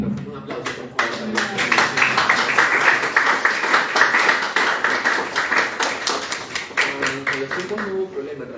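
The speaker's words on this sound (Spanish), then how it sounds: "un aplauso por favor" An audience at a university sociology colloquium's student panel bursts into clapping, a dense sustained round of applause that rises quickly, holds steady for several seconds, then thins out toward the end.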